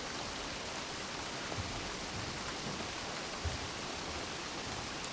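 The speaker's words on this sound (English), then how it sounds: "Now begin to focus on the sound of the rain." Rain falls as a steady, even hiss of dense drops, with no pauses or other sounds over it.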